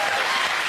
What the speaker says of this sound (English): He started a spontaneous round of applause.